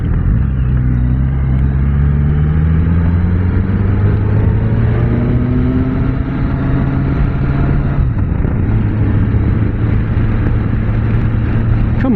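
A Suzuki GSX-S1000GX motorcycle is ridden at speed: a loud, continuous engine drone shifts pitch as it gears up and eases off, heavily buffeted by wind rush, with no speech.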